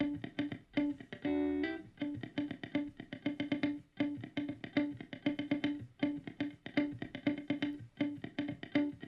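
An electric guitar plays a steady rhythmic pattern of repeated notes with a short, subtle Waves H-Reverb plugin reverb adding space, and a brief sustained chord near the start.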